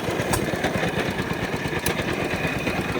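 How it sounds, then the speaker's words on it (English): Engine-driven corn grinder turning corn into cornmeal at an antique power show, giving a loud, steady mechanical chugging with rapid regular pulses and continuous grinding noise throughout. "Corn goes into the grinder."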